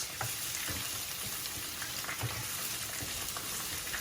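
Onions fry in a pan on a gas stove, a steady broadband sizzle with small pops and crackles running throughout, close and continuous with no talk.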